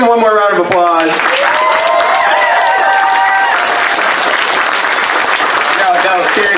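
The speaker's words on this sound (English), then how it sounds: "Give them one more round of applause." Loud crowd applause at a furry convention's closing ceremony, dense sustained clapping that starts under a voice and music, then fills in as a wide wash of hands with some cheering.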